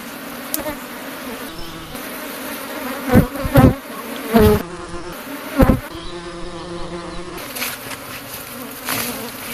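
Honey bees buzz around an opened Kenyan top bar hive during comb repair after honey harvest, a dense, continuous close drone with several louder individual bees swelling past the listener.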